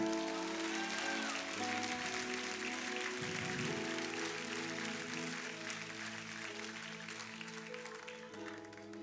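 Applause from a church crowd rises over sustained background music, a steady patter of clapping that gradually fades.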